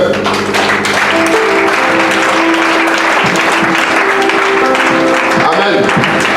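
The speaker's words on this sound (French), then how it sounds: "Est-ce qu'on peut acclamer le Seigneur?" Church congregation clapping and cheering at a Sunday worship service, dense sustained applause throughout with a sustained tone and voices mixed in.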